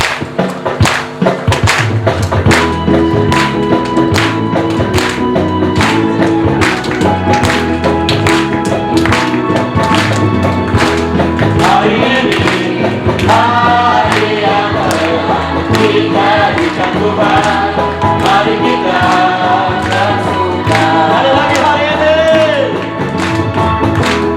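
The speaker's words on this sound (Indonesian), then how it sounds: "Ayo Bapak, mari kita tepuk tangan" A church congregation at an end-of-month Saturday service claps along steadily and loudly, the rhythmic hand claps sitting over music and singing throughout.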